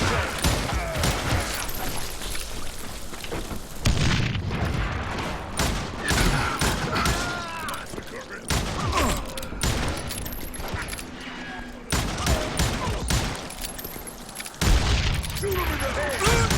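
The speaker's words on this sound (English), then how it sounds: "Kid Curry opened up on me with a goddamn Gatling" A Gatling gun firing in a Wild West video game, long sustained volleys of rapid shots in several bursts with brief pauses, loud and close, with a voice faintly under the shooting.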